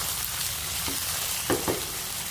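Strips of beef fry in a hot pan for samgyupsal, a loud, steady sizzle with a few sharper spits and stirring knocks toward the end.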